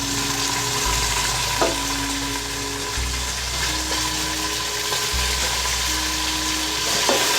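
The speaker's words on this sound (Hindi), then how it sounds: "तो इसमें अब हम इसमें कीमा डाल देंगे" Minced meat (keema) sizzles in a pan over a low flame, a steady close crackle and hiss that continues throughout with light stirring scrapes and no talk.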